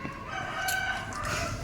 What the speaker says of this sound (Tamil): கோழி கத்திட்டு இருக்கு.